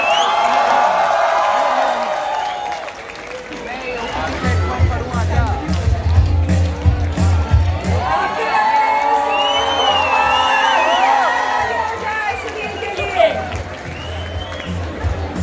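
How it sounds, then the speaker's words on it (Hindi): A literary festival audience claps and cheers for comedian Sunil Grover, loud, dense applause mixed with whoops and crowd hubbub that runs throughout, with a host's voice heard over the noise. "जोरदार तालियां हो जाए भाई सुनील ग्रोवर के लिए, जोरदार तालियां"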